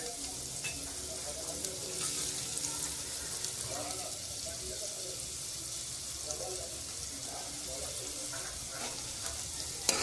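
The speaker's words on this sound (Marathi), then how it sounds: "आता आपण हा कांदा आहे ना तेलामध्ये चांगला फ्राय करून घेऊया." Onion frying in oil in a pan, a steady, moderately loud sizzle and crackle that runs unbroken for the whole stretch with light stirring noises and no talking.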